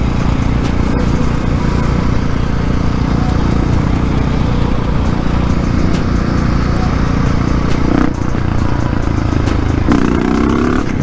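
A motorcycle engine roars loud and close for the whole stretch while the rider attempts a power wheelie, with a steady high drone, some clatter and a brief dip near the end.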